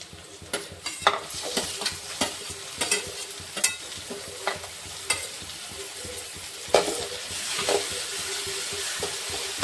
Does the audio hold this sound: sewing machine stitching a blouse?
no